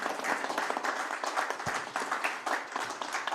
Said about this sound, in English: would you please give a warm round of welcoming applause to John Helge